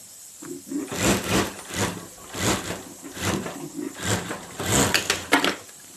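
A sewing machine stitches over the zip seam of a handmade hand bag in repeated short whirring runs, each one close and steady with brief pauses between them.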